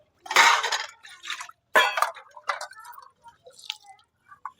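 Dishes, pots and a tawa griddle being scrubbed and rinsed by hand, with close clattering bursts, metallic clinks and dripping water coming in uneven spurts.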